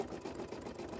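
A single-needle embroidery machine runs a satin stitch around a glitter canvas vinyl shoe charm on foam, a fast, close, continuous chattering hum in a brief burst with no talking.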